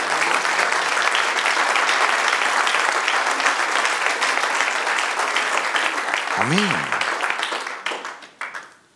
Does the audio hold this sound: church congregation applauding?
yes